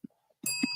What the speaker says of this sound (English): I need the bell over here.